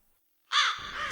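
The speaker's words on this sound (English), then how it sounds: "Suddenly, a soft chirp came from outside. A black raven, a messenger, was perched on the windowsill" A single harsh raven caw bursts out after a moment of silence, close and loud, with a hoarse throaty rasp trailing off at a windowsill.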